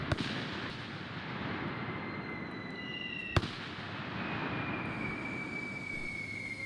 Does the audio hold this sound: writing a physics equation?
no